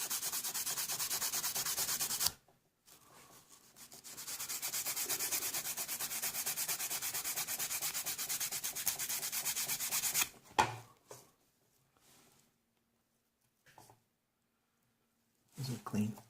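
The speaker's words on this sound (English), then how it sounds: "take a pad of Scotch-Brite and clean the contacts." Abrasive rubbing of a Scotch-Brite pad scrubbed across the copper contacts of a dirty circuit board, a steady close scratchy swishing for about ten seconds, then a few brief rubs after pauses.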